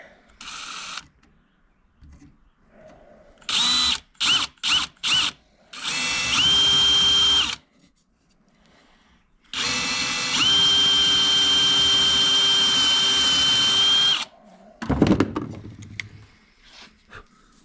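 A power drill bores a 1/4 inch hole for a simple homemade tool, starting with several short trigger bursts, then two longer sustained whirring runs with rising pitch, separated by pauses and followed by a clatter.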